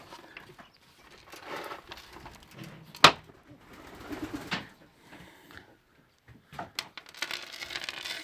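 Racing pigeons, including a large male back from a 21 km junior training flight, coo softly near a feeding area, with one sharp click partway through and scattered rustling. There is no talking.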